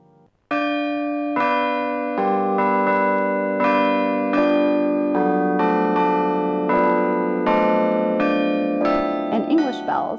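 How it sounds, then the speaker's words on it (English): Sampled cast bronze bells on a Schulmerich g5 Classic digital carillon ring out a steady melody, each loud struck tone sustaining and overlapping the next, with no talk. "Bell sounds are generated by 4 distinct bell voices for a total of 220 bells,"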